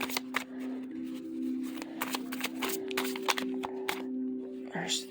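Tarot cards being shuffled and drawn: a quick series of crisp flicks and snaps close by, with a steady tonal hum underneath.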